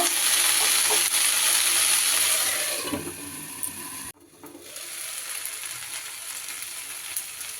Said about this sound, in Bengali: এইবার ভাজা ভাজা হয়ে গেছে কালারটাও চেঞ্জ হয়ে গেছে